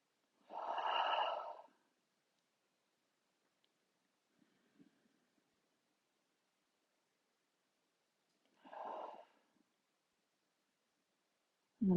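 Slow, deliberate breaths during a yoga breathing exercise: a long audible breath near the start, a long quiet pause, then a second softer breath, close and isolated in near silence.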